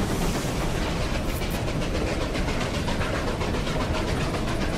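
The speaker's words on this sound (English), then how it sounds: "Here comes the train." A steam-era train rolls in within the Western game Desperados 3, a loud continuous rumble with a rapid clickety-clack of wheels on rails, close and steady throughout, with no voices.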